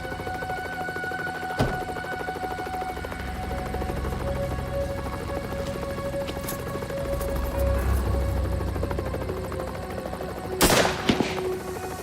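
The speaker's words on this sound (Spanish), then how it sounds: "Dispararon cápsulas de gas lacrimógeno no inflamable hacia el piso superior" Non-flammable tear gas canisters fired at the upper floor of a building, with sharp bangs at the start and end over a steady mechanical drone like a hovering helicopter.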